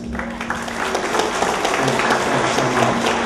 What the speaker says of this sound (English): Let's give applause to the women who organized this event.